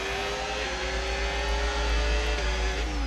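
A Ferrari race car engine droning steadily on a formation lap in a racing video game, a sustained high-pitched whine with slight pitch shifts, loud and alone.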